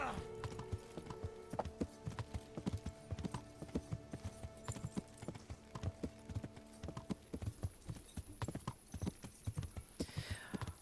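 Steady clip-clop of horse hooves at a brisk trot in the video game Kingdom Come: Deliverance, rhythmic and close, continuing throughout with faint background sounds.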